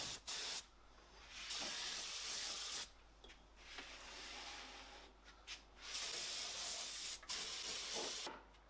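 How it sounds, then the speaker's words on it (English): Long, loud bursts of hissing from a spray gun applying furniture-grade lacquer to a wooden tea box, separated by brief pauses, close up and with no talking. "Just spraying it up now with the lacquer, the furniture grade spray lacquer."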